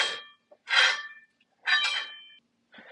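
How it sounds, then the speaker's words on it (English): A K24 engine flywheel scrapes against the mount bolts as the engine turns, making short metallic rubbing bursts about once a second, faint and close, with quiet gaps between them. "The noise you hear is just from the flywheel that is touching the bolts of the mount."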